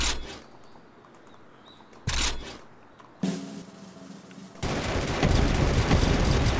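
Gunfire from several guns in the video game DEEEER Simulator, loud dense bursts and rapid volleys that build to a continuous roar toward the end, with no talking.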